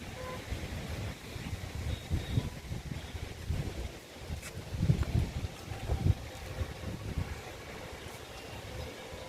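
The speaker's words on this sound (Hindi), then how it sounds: "बहुत ही ठंडी हवा चल रही है, मतलब कि बिल्कुल जैसे कि एसी से हवा आ रही है" Strong, cold wind gusting during the rainy season outdoors in Ayodhya, a steady low roar of buffeting air across the microphone that swells in gusts, with no voices.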